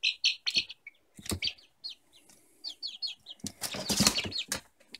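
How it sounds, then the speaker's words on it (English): Young backyard chickens, a mix of roosters and hens, flap their wings in several bursts, with close clucks and chirps between them and a loud, flurried flutter toward the end. "So yes, I do believe that one and that one are roosters. The rest I believe are hens."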